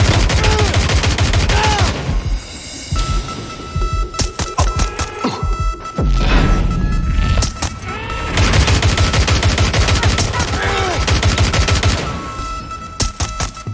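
Heavy gunfire in Watch Dogs Legion rattles almost without pause as loud rapid bursts and volleys, broken by brief gaps, with game music and effects underneath.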